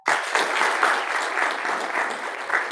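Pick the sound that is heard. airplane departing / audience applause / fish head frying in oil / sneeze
audience applause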